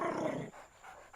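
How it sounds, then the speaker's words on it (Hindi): A dog in a comedy film scene lets out a short, low growl lasting about half a second, then goes quiet, with faint background hiss. "तू क्या गुर्रा रहा है?"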